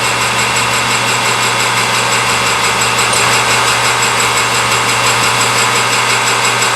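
A lathe cutting a metal part in a workshop makes a loud, continuous machining whine and hum with a steady vibrating drone that holds without pause.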